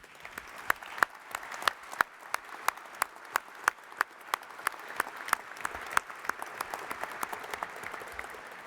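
An audience at a Canadian aviation hall of fame induction ceremony applauds the new inductees, giving sustained clapping from a mid-sized crowd, with a few sharp claps standing out over the steady patter.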